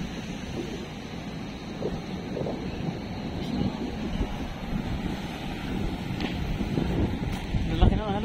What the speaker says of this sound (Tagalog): Malalaki ng alon.